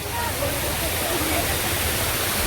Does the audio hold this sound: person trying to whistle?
no